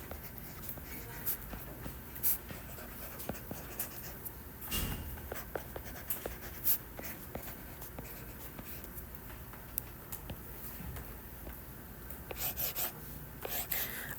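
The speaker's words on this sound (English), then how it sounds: "I'm going to write what you should enter" A teacher writing an answer during a tangent ratio math lesson, faint scratchy strokes and taps of writing on a board or surface, irregular and close, with quiet room noise around it.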